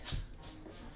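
A dog gives one short, sharp sneeze right at the start, fairly quiet, then low shuffling room noise follows.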